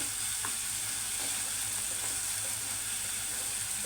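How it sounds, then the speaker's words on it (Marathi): Chopped onion frying in oil in a pan while being roasted for a dhaba-style whole masoor lentil curry, a steady close sizzle that holds evenly throughout with faint stirring ticks. "आता कांदा ना चांगला भाजून घ्यायचा आहे कच्चा नाही राहायला पाहिजे"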